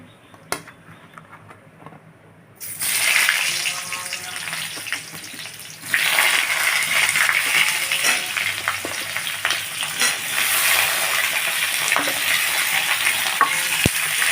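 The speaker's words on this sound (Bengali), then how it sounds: "পটলগুলো ভাজা বসিয়ে দেবো।" Pointed gourd (potol) frying in oil in a pan, a loud, steady sizzle that bursts in after a quiet start and holds a dense, crackling hiss, with occasional stirring scrapes and no one talking.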